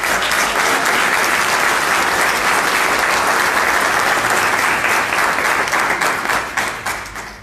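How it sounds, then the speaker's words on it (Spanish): Sustained audience applause fills the room at a gathering honoring workers' rights, dense and steady clapping that holds loud before tapering off near the end. "Flor, le doy un aplauso"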